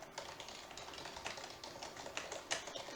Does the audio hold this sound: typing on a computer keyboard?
yes